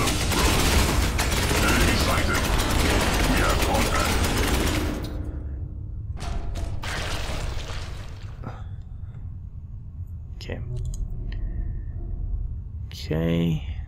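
Gunfire from the Space Hulk Ascension video game: dense, loud mechanical firing bursts fill the first several seconds, then sparser clanks and sharp hits follow, with a short rising mechanical whir near the end.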